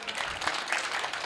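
An audience at a Hindi comic poetry gathering claps together in a steady, dense burst that lasts about a second, filling the hall at a fairly even loudness.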